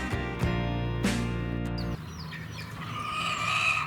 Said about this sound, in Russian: в крепостном рву обнаружился зоопарк с курами и петухом